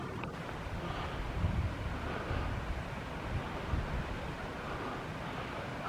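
Wind blowing across an open hillside on a ramble, a steady rushing gust noise buffeting the microphone throughout, with no speech.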